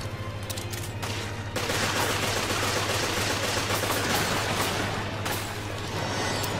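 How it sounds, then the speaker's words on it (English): Rapid bursts of pistol fire in the co-op video game Resident Evil Revelations, dense and continuous crackling shots layered over a steady low game drone, loud throughout with no talk. "You're a terrible shot! Why are you using a pistol?!"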